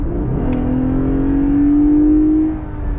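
A 2019 Lexus IS 300 engine in sport mode revs hard under full throttle, its pitch climbing steadily into a loud, sustained roar before easing off near the end.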